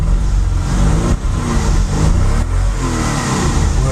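Mercedes 450SL engine fitted with MegaSquirt fuel injection, still a little cold, running steadily with a continuous close, loud mid-range drone and slight swells in revs throughout.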